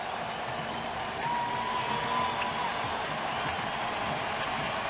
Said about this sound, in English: So the crowd getting into it,